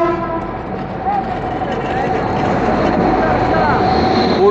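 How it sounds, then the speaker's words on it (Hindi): A train pulls into Asansol Junction, a continuous rolling rumble with squealing wheel tones and station hubbub, moderately loud and close, with voices in the background. "तो ये किसी ट्रेन का अराइवल हो रहा है आसनसोल पे।"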